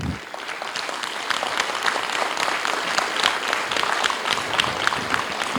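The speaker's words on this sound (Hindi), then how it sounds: "एक बार जोरदार तालियां इन सभी लोगों के नाम" Steady, dense applause from a large theatre audience after a play, continuous and fairly loud throughout with no talking.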